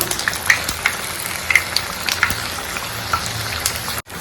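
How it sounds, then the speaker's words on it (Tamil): Battered chilli bajji fritters crackle in hot oil, a close rain-like hiss dotted with small sharp pops, ending in a sudden brief cutoff. "மிளகாய் பஜ்ஜி நல்லா வெந்து வந்துருச்சு."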